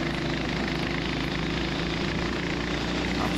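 A racing go-kart engine bogs down on track, a loud, continuous buzzing drone heard up close, steady throughout with no voices.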